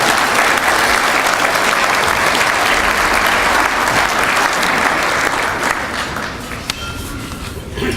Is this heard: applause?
yes